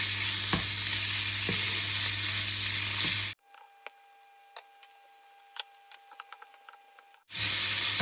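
Pumpkin and pork belly stir-fry in a hot pan with a loud, continuous sizzle. The sizzle drops out midway to near-quiet with a few sparse clicks, then returns at full strength.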